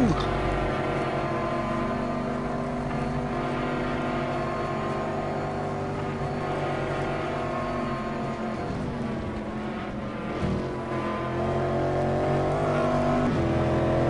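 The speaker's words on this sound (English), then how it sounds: "These cars have a great sound." Steady, loud race car engine rumble at the Nürburgring Nordschleife during a 24-hour race, with droning tones that shift slightly in pitch, continuous throughout with little variation.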